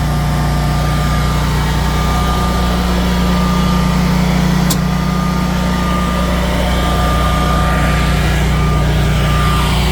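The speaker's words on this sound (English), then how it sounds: "Now the generator is gonna run for 1 minute and cool down." A Generac 24kW standby generator idles through its cool-down with a loud, steady engine drone and hum, constant throughout with one brief click midway.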